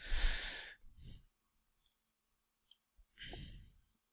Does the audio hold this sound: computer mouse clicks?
yes